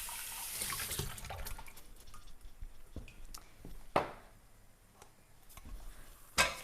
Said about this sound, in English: I'm going to rinse this out because I need this in a little while.